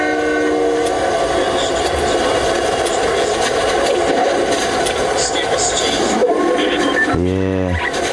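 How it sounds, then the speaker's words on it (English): Train rolling past in Fortnite, a loud continuous rumbling and clattering of railcars that ends with a blaring horn blast, while players talk over it. "They even got trains now."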